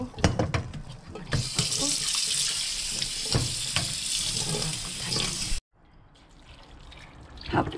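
Water from a tap is poured into a cooking pot of soaked red beans, a steady splashing rush that stops abruptly, followed by quieter clinks and movement at close range.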